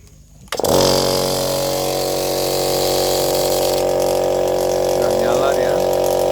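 A pond aerator motor beside a tarp fish pond switches on after a short quiet moment, then runs as a steady, loud, close-up mechanical hum with a constant buzzing drone.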